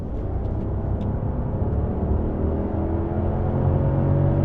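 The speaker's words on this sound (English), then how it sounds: "Man, you can hear that V10" Audi S8 saloon with a Lamborghini-derived V10 engine accelerating, heard from inside the cabin as a deep, steady rumble that builds slightly in loudness over a few seconds, close and continuous with no talk.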